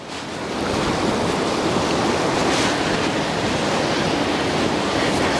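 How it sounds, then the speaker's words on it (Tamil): Water rushing down a mountain stream fed from a snowy peak in Pakistan, a steady broadband roar that holds constant throughout with some wind mixed in, no voices. "இங்கே பாருங்கள், இந்த தண்ணி எங்கேருந்து வருது பார்த்தீங்கன்னா, இந்த மலை சிகரத்துலேருந்து தான் வருது."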